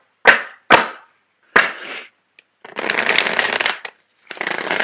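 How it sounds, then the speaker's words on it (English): Tarot cards are shuffled up close: three sharp riffling snaps, followed by two longer bursts of fluttering, rustling card noise, loud and alone with no voices. "So I'm going to shuffle the cards."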